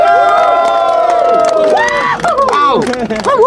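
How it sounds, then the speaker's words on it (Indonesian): A lively crowd at a tree-planting event in IKN, Indonesia, cheers and whoops loudly, with excited shouts and voices rising over one another. "Kita berikan tepuk tangan Pak Basuki."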